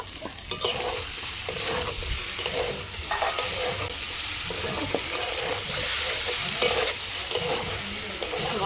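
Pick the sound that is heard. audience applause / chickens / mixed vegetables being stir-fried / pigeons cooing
mixed vegetables being stir-fried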